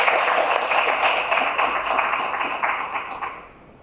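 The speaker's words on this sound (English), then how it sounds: "Give him a big clap." A small audience at a Rotary Club oxygen concentrator inauguration gives a short burst of close, dense clapping that fades out after a few seconds, with no talking.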